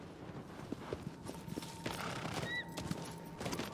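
Horse hooves clip-clop in the video game Shadow of the Colossus, a faint steady rhythmic patter under ambient game sound, with a short chirping call partway through.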